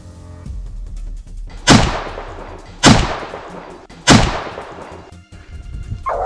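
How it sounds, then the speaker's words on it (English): Three sharp, loud gunshots crack in sequence during a boar hunt on open grassland, each with a booming decay, spaced about a second apart over faint outdoor background. "The gunshot rang out before the smoke had even cleared."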